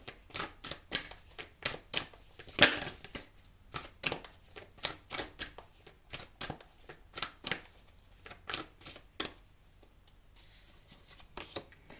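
Tarot cards being shuffled close by in a series of quick riffling bursts, repeating at a steady pace and separated by short quiet gaps, with no voice over them.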